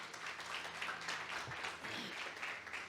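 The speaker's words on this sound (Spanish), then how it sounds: "Dale ese aplauso nuevamente y siéntese" A church congregation applauds during a Sunday service, a steady, fairly soft wash of clapping with no distinct individual claps standing out.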